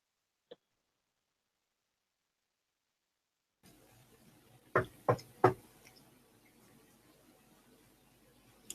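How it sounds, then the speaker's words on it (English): Three sharp, close knocks on a door come in quick succession after a silent stretch and a single faint tap, then low room ambience follows, in a dramatized historical scene involving the Roman emperor Commodus. "he is going to respectfully knock on the door as one does"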